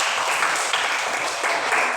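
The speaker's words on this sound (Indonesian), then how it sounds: "berikan tepuk tangan kelompok 2" Children in a classroom clap for a group, producing a brief, continuous burst of applause that stays even and fairly loud throughout.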